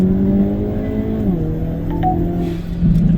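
A car accelerates hard uphill, its engine note loud and close, holding steady and then shifting pitch as the revs change, with no talking over it.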